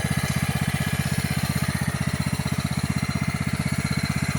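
A Craftsman lawn tractor engine runs steadily at close range, a loud, even low-pitched chug with rapid regular firing pulses and no talking.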